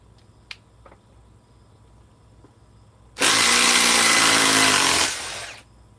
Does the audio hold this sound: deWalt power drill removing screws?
yes